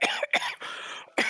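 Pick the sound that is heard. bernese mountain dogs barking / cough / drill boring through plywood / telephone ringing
cough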